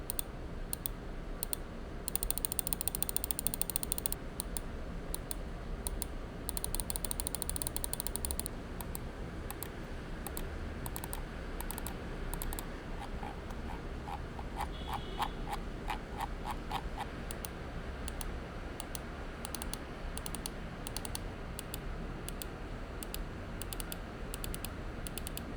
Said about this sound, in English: Now here's a quick sound test to give you a better idea of how this mouse sounds.